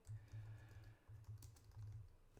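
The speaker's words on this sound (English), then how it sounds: "I'm sitting here typing, and I'm expecting the little thing here to type" Typing on a computer keyboard, close and fairly quiet, with quick clusters of key clicks and thumps in uneven bursts separated by brief pauses, no talking over it.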